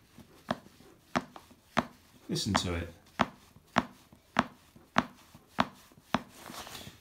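Jack Pyke hunters boots creak and crack around the soles with sharp, evenly spaced cracks about every half second, close up, with a brief burst of talk partway through.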